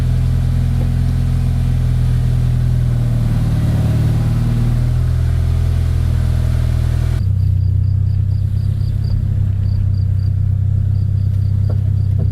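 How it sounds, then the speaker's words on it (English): A 1996 Honda Accord with upgraded Powerstop brakes on a test drive, the engine and road rumble loud and steady from inside the cabin, shifting in tone partway through as faint chirping insects come through outside. "So I'm going to go ahead and go for a little test drive here"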